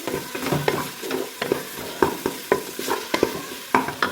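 Garlic and ginger paste sautéed with browned onions for a chicken karahi, sizzling in oil as a spoon stirs and scrapes the pan in rapid, repeated strokes, close and clear.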